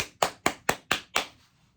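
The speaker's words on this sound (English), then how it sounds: "clap it up, clap it up" Six crisp, evenly spaced hand claps from one nearby person during a loose canvas painting session, each sharp and distinct, the last slightly softer before silence.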